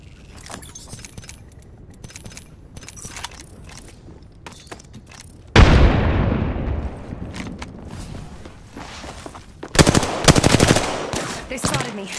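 Gunfire strikes the player in the battle royale shooter Apex Legends: scattered light clicks and footsteps, then a sudden loud burst of rapid machine-gun fire that trails off, followed by another dense volley of shots near the end.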